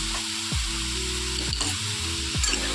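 Ground radhuni paste goes into a hot pan for Bengali shukto, setting off a steady sizzle with a few soft stirring scrapes and a low background hum, no voices.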